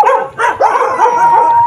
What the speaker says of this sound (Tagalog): Nagalit sa atin ang mga aso.